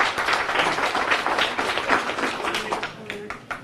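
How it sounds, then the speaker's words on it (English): An audience at a campaign kickoff event applauds for County Executive P.J. Wendell: dense, sustained clapping from a crowd that thins out into scattered claps toward the end. "Give him a round of applause."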